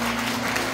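A brief burst of steady clapping from a church congregation during a sermon, dense and even throughout.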